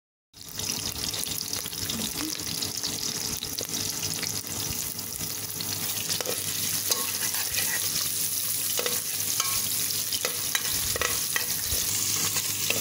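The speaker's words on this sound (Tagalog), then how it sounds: "igisa natin yung bawang, sibuyas, saka luya" Garlic, onion and ginger sautéing in cooking oil for pinakbet give a continuous, even frying hiss for the whole stretch, with small scrapes and crackles scattered through it.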